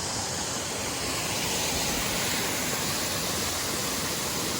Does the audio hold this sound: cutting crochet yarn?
no